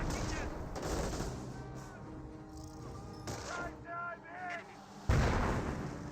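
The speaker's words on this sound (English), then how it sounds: "Another round stun grenades now being thrown." Stun grenades and gunfire go off in a Company of Heroes battle: repeated heavy artillery-like bangs and bursts of shooting, with a short voice partway through and a loud blast near the end.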